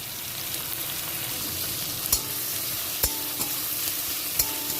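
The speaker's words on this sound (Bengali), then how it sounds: "এবার একটু পেঁয়াজটা নেড়ে ছেড়ে ভেজে নেব।" Sliced onion sizzles in a pan with a steady hiss, punctuated by a few sharp clicks and knocks of a spatula stirring, no voices.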